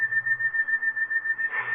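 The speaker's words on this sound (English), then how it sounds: "Like somebody whistling it." A lone steady whistle holds a single sustained note in a quiet spooky radio drama setting, faintly wavering, with a brief breathy flourish at the end.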